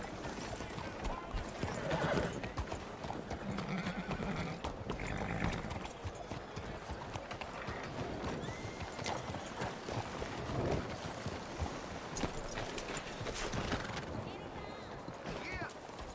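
Horse hooves clip-clop at a steady gait in the game Red Dead Redemption 2, set against constant wind, with occasional whinnies and a voice speaking briefly over the ride.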